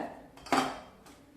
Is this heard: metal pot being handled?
yes